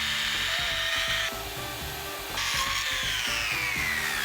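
A small as-seen-on-TV saw cuts through a 1x4 wood board with a steady, close, continuous buzzing whine, the rasping tone changing partway through the cut.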